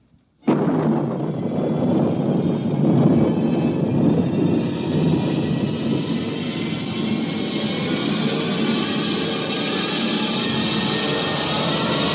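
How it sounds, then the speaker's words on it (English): A rocket blast-off roars in suddenly after a brief quiet and holds as a loud, sustained, broadband rumble with hissing exhaust noise that continues steadily to the end, with no voices over it. "Countdown for blast off"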